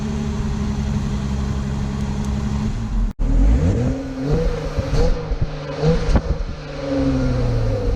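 A 2018 Jeep Wrangler JL fires up by remote start: a quick starter crank just past three seconds, then the engine catches and revs up before settling into a steady idle, close and loud with no talking.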